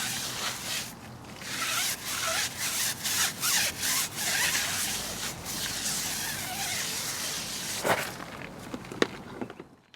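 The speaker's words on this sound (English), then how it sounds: "A dodgy stiff bristled one I found lying round was used for the tyres." A stiff-bristled brush scrubs car tyres in rapid rubbing strokes, close and fairly loud, with a steady rasping texture and a few sharper scrapes near the end; no talking.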